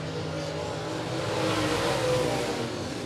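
Race cars roar steadily on a dirt speedway oval during heat races, a dense, even engine drone at moderate distance that swells slightly midway and holds with no clear gaps.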